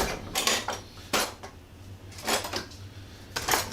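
Kitchen utensils clatter and rattle as a whisk is fetched, several bursts of metallic jangling separated by brief pauses, fairly close.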